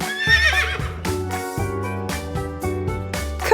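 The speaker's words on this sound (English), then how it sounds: "Correct! It's a horse." A cartoon horse gives a loud, close whinny that rises and trembles, then fades into a cheerful, bouncy melody in a children's learning cartoon about farm animals.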